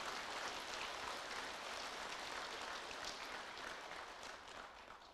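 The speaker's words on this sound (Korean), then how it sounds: "박수 한번 칩시다" A temple congregation at a Buddhist Dharma service breaks into sustained applause, a dense wash of clapping heard from within the hall that holds steady before easing slightly toward the end.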